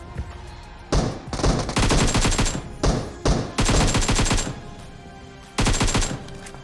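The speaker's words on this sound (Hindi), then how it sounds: "अभी सामने से कुछ बॉट फायरिंग करते हैं" Automatic and rapid gunfire from bots in PUBG Mobile, loud and close, in several sustained bursts separated by short quieter gaps, with no talking.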